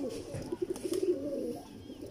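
A pigeon from a line-bred breeding pair coos nearby, a few soft, low throaty pulses bunched in the middle, with faint background noise around them.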